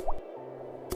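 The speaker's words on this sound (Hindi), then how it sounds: "दीवारों से पानी टपकने की" Water dripping from the walls of a dark, cool cave, heard as a couple of distinct drops, one plink near the start and another just under a second later, faint and echoing over a low hum.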